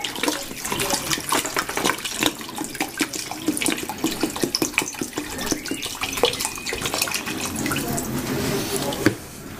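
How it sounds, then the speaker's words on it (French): About two litres of water are poured into a pot for melokhia, giving a continuous splashing, trickling pour with small drips, close and moderately loud, with no speech over it. "Alors on rajoute l'eau. Donc là, il y a à peu près 2 litres d'eau."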